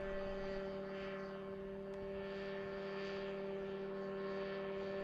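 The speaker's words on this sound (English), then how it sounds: "The test flight involves a range of scenarios, from hovering to high-speed maneuvers, demonstrating the helicopter's agility and stability at varying altitudes." A Mosquito ultralight helicopter on a test flight gives a steady, droning engine and rotor hum that holds even and loud throughout, with no break or fade.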